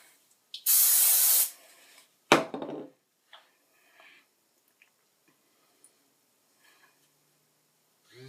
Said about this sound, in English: Spray the front and tease from the front as well.